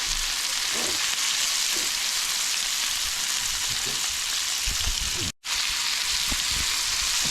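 Sausage frying in a pan for Cajun shrimp and grits, a steady loud crackling sizzle throughout with occasional soft pops and stirring, one brief cut of silence near the end.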